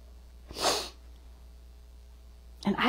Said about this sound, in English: I'm like sniffling.